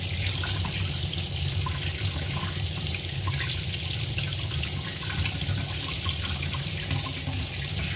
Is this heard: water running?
yes